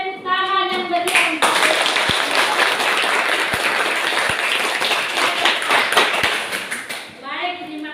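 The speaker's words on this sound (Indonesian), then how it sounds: "Baik, mari kita berikan tepuk tangan yang meriah." A classroom of students claps enthusiastically for several seconds, a dense burst of hand claps that starts abruptly and fades, with a teacher speaking before and after.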